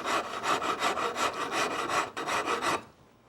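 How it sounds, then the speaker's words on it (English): An Auriou rasp files across wood in about a dozen quick, even back-and-forth rasping strokes, close and alone, stopping abruptly at the end. "And that's the Auriou Rasp."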